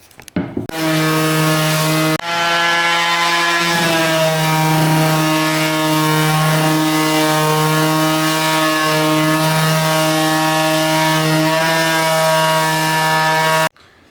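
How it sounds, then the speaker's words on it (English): A power sander runs steadily against a wooden socket holder base, giving a loud, continuous droning hum with a strong buzzing tone that holds for about thirteen seconds before cutting off. "I'm going to go ahead and hit it with the sander, smooth it off"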